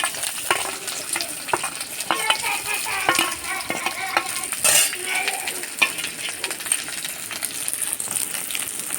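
Bay leaves and onions fry in a pan for mutton curry, sizzling steadily while a utensil stirs and scrapes with frequent metallic clinks.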